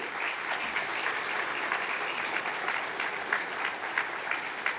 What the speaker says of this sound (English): Can we give our teachers a round of applause?